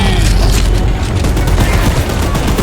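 A machine gun fires continuously in the Choo Choo Charles video game, a dense, loud, unbroken roar of rapid shots with booming low end throughout.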